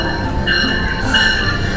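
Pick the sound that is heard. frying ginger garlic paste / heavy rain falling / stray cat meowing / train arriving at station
train arriving at station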